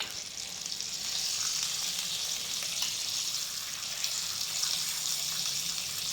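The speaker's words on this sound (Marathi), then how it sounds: "आता दुसऱ्या बाजूला पण हा मासा आपण पलटून व्यवस्थित फ्राय करून घेऊया" Pomfret fish frying in oil in a pan over medium heat, a steady, fairly loud hiss of sizzling that runs unbroken throughout with no talking.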